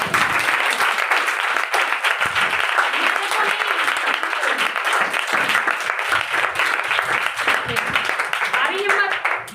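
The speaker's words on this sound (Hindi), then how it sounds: "एक ताली तो दे दो।" A church congregation at a Sunday sermon bursts into loud, sustained applause, many hands clapping in a thick continuous patter for several seconds, with voices mixed into the crowd noise.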